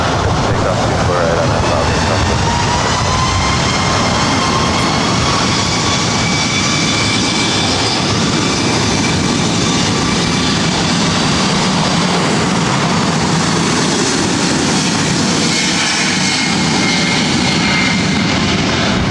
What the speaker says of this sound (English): This is Southwest Airlines 1634 taking off to Houston Hobby on the MAX 8